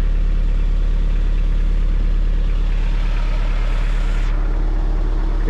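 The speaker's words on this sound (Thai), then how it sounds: "เครื่องเป็น 4D56 เทอร์โบนะครับเดี๋ยวลองฟังเสียงดูฮะ" A Toyota Mighty X pickup's 4D56 turbo diesel idling nearby, a steady low throbbing rumble that holds an even rhythm for the whole stretch.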